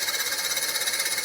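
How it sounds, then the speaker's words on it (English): A drill bit boring into wood turning on a lathe at about 490 RPM gives a steady, dense, hissing grind with a fast fluttering pulse, continuous and close with no voices. "You don't need to drill at a high rate of speed."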